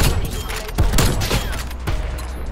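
Rapid bursts of gunfire crackle close by in Black Ops Cold War, a dense fusillade of sharp cracks with a few heavier thumps, continuous over the whole stretch.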